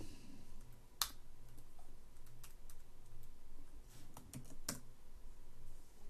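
Computer keys pressed during a session of the roguelike game Sil, a few sharp separate clicks standing out against a steady hum of background noise.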